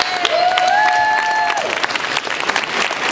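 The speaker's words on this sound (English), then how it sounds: "give those guys a round of applause." Round of applause from an audience at a live science-center demonstration hour, brisk crowd clapping heard up close, with a brief whistle-like tone rising over it at the start.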